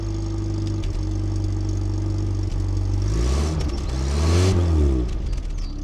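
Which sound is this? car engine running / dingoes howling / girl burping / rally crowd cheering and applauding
car engine running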